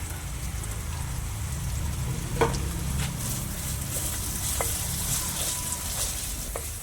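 Green chillies, curry leaves and shallots sauté in oil for a Kerala fish curry, giving a steady close sizzle like light rain, with occasional clicks and scrapes of a stirring spoon.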